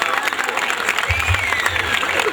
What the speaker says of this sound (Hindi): ताली बजाने जरा एक साथ बजाइए